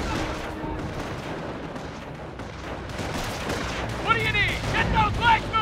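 Soldiers firing in the Company of Heroes World War II Normandy campaign, with scattered rifle and machine-gun bursts and distant booms filling the scene, and battle shouts rising near the end.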